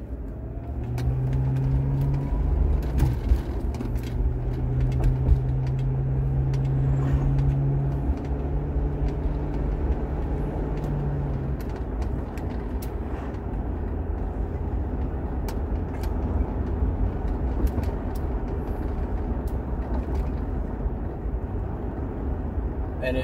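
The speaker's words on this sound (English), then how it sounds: "this thing glides over speed bumps so much better than it used to" 1999 Mercury Grand Marquis with new rear shocks cruising smoothly, a continuous interior engine drone and road rumble with a gentle rising hum early on, steady throughout.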